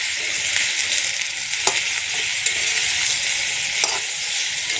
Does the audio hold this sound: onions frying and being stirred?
yes